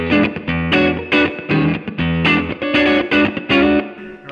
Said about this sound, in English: it's a very short kind of a reverb, very good for